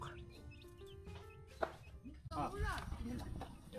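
Chickens cluck and chirp softly in a barnyard while people talk nearby, with a sharp bird call standing out midway.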